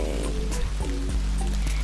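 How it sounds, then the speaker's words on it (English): Heavy rain keeps falling on a rainy day, a steady dense patter with scattered drips, continuous and fairly close throughout, with no voices. "And guys, look, the rain is so heavy."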